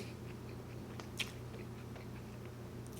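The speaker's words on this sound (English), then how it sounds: "And I got a regular cheeseburger. The bread is so toasted." Someone chewing an In-N-Out cheeseburger on toasted bread, soft close bites and crunches over a quiet steady hum, with one sharper crunch midway.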